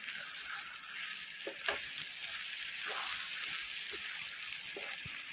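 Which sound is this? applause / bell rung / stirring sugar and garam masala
stirring sugar and garam masala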